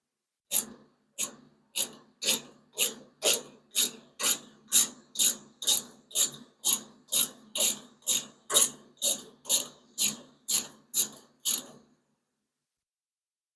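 Ratchet wrench tightening a bolt on a 6.4 Hemi engine run stand, a long run of about twenty evenly spaced clicking strokes, close and clear, ending abruptly with no talk.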